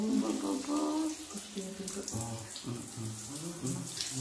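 Shower water sprays steadily and close by while a two-month-old Doberman puppy is bathed, a continuous rushing flow with talk running over it throughout.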